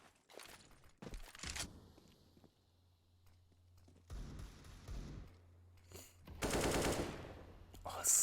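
Counter-Strike match gunfire, several bursts of close rapid shots with footsteps in between, played at a low level alongside quiet game ambience.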